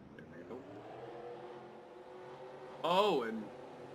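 Race car engines rev and accelerate at the start of an Xfinity series race in a racing video game, a steady engine drone rising into a brief loud surge under a commentator's talk.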